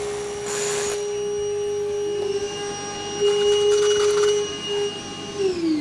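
Vacuum cleaner running over a freshly drilled concrete slab, a steady droning whine with a shifting pitch and bursts of rougher suction noise, close and continuous.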